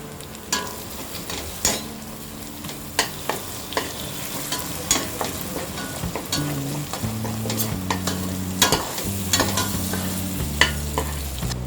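Two tablespoons of butter sizzling and crackling in a hot pan for Mumbai misal pav, with a spoon stirring and clinking against the metal in irregular taps.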